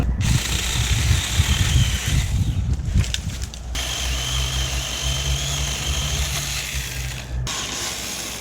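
An ATV four-wheeler engine runs close by with a steady, rough idle, rising into a louder rumble at first and then settling into a lower, even drone with some mechanical rattling; no talk.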